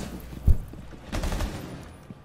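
Gunfire in a video game shootout with a claymore in play: one sharp, close bang, then a short rattle of several shots a moment later, fading into quieter background noise without speech.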